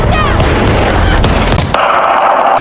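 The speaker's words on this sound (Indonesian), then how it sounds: "You're gonna have to shoot him through the wall." A gunshot is fired through a wall in a Scream 7 horror film scene, a loud, sharp blast with a crashing, reverberant tail over dense dramatic sound.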